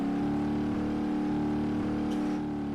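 A Scania truck hauling a trailer on a village road in BeamNG.drive drones with a steady, low engine hum at constant level, close and continuous, with no clear revving or stalling and no voices.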